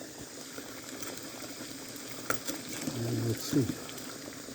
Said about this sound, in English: Alright, so there it is. It's boiling.